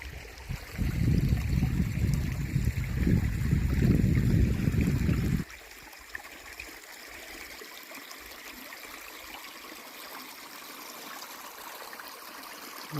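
Mountain stream along a hiking trail, water rushing and babbling loudly up close for a few seconds, then dropping to a softer steady trickle in the background.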